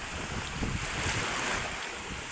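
Surf churns during a typhoon as a dense, continuous wash of waves and gusting wind buffets the microphone. Nearby boats sit swamped in the rough water.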